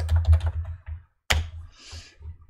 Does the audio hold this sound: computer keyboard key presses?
yes